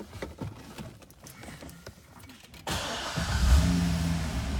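A 2012 Corvette 1LT convertible with a six-speed starts up, the engine catching suddenly after some quiet rustling and settling into a loud, steady idle close by.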